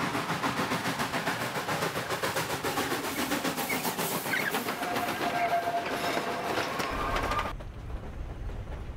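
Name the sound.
train running on rails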